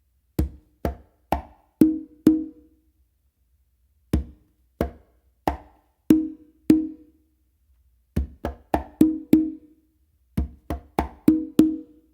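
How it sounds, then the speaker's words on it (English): A close conga plays a tumbao cycle of bass, finger, close slap and two open tones. Four short phrases of five sharp hand strokes each are separated by silent gaps, with no talk. "then a close slap with your dominant hand on the conga,"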